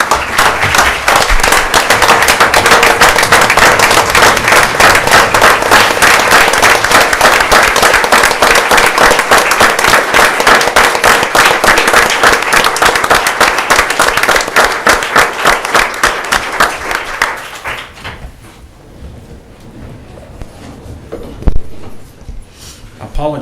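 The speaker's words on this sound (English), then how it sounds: "could we give our first responders a round of applause for all the work that they've done?" A council meeting audience gives a round of applause for first responders: loud, sustained clapping that fades out near the end, leaving a quiet room.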